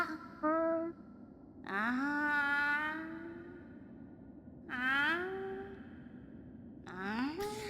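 Murmuring, sighing vocal sounds of the Seer character in the video game Hollow Knight, in three or four gliding, wavering bursts over a low ambient background, moderately loud.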